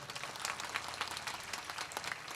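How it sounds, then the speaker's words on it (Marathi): An audience claps for a hard-working elderly man at a devotional gathering, a steady patter of many hands sustained throughout with a few sharper individual claps standing out. "यांच्यासाठी जोरदार टाळी वाजा"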